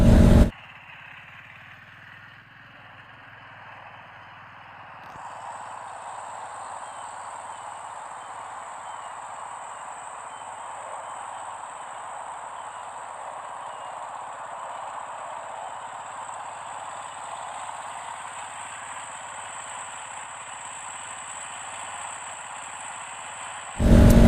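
A 2020 Honda CBR 500R motorcycle engine while riding in a parking lot, a steady droning hum with a constant high whine, sustained and even for over twenty seconds.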